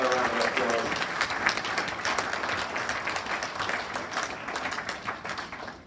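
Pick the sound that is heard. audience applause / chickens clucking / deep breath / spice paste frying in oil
audience applause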